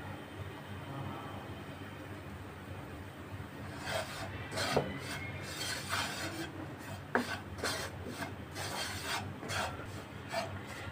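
Chicken pasta ingredients are roasted and stirred in a pan over a low gas flame, with a spoon scraping and rasping against the pan in repeated strokes over a faint sizzle.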